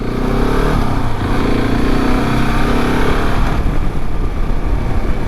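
A KTM 690 Enduro R motorcycle rides along a road, its single-cylinder engine droning steadily and loud throughout with wind noise, the pitch shifting slightly partway through.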